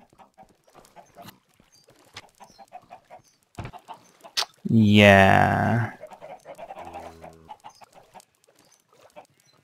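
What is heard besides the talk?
chickens clucking in the video game Minecraft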